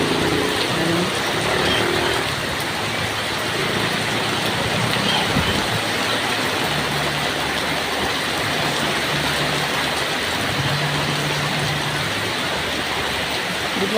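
Heavy rain falls without pause, a thick constant roar of drops with a low droning hum in the background.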